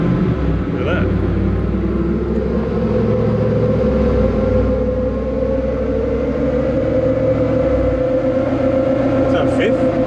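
A Toyota Landcruiser 80 Series with a V8 build and automatic transmission cruising under throttle, a continuous loud engine rumble whose tone steps with the gear shifts, with someone talking over it.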